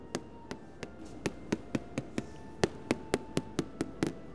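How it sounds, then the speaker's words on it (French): A steady series of sharp metallic taps, about fifteen evenly spaced strikes of a small special hammer on a Parmesan cheese wheel, close and clear. "Ça signifie taper le fromage avec le marteau spécial"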